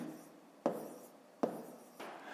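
Pen or pencil writing numbers by hand on paper during a long-division exercise, with three short scratchy strokes, each starting with a sharp tap and fading into a soft rub, close and quiet with no talk.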